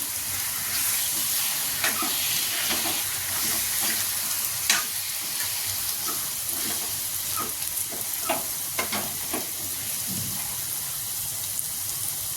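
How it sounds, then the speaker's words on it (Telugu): Chicken pieces fry in a pan with spices, giving a continuous soft sizzle broken by repeated scraping stirs of a spoon, close and moderately quiet, with no talking. "దానిలో చికెన్ వేసుకొని కలుపుకుందాం"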